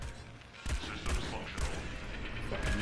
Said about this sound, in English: Ion cannon, baby.